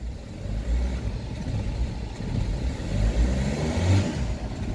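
A car engine in fourth gear revs with a deep, rumbling roar as the clutch comes up and gas is applied, swelling and holding close and fairly loud with no talking.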